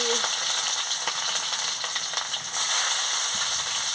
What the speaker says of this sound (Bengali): কড়াটা গরম হয়ে গেছে আমি তেল দিয়ে দিচ্ছি এবার আমি পাঁচ ফোড়ন আর শুকনো লঙ্কাটা দিয়ে দিচ্ছি পেঁয়াজ কুচি কাঁচা লঙ্কা দিয়ে দিচ্ছি